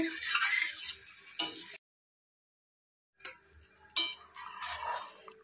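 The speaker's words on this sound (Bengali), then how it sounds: "তো ঝোলটা উতলে গেছে" Fish curry broth made with ridge gourd bubbles and sizzles in a pot with the occasional clink of a spoon, breaking off into a brief silence partway through.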